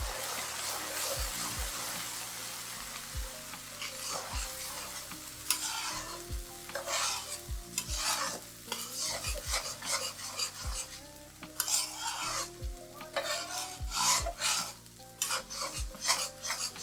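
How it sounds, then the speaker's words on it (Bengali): Oil with turmeric bubbles and sizzles in a large, full wok while olive pickle cooks. A steady frying hiss runs under repeated stirring scrapes and metallic clanks of the spoon, with no talk. "বড় কড়াই নেওয়ার কারণে তেলটা বলক হয়ে পড়ছে না, একদম কড়াই ভরে গেছে।"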